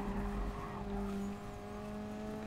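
Race car in Gran Turismo Sport braking hard, a steady engine drone with a tonal whine that drops in pitch as the car slows, moderately loud with no talking.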